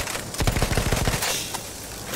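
Burst of rapid gunfire aimed at a bomber aircraft in the video game Battlefield 1, a quick run of sharp repeated shots lasting under a second, fairly loud over a steady game background.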